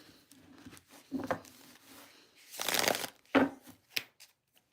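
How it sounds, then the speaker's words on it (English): A worn deck of tarot cards being shuffled up close, with several bursts of riffling and sliding card noise, the loudest near the middle and short snaps toward the end. "I like it when people can see me shuffle, especially these cards. They're so wore in."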